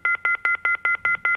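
Telephone dialing tones carried over a radio call-in line: seven quick, evenly spaced keypad beeps, clear and loud, with no voice.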